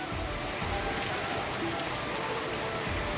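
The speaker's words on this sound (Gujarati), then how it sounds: "કેવો વરસાદ આવે છે" Heavy rain pours steadily in Junagadh on a dark early morning, a dense, even hiss of water falling on surfaces filling the whole stretch without a break.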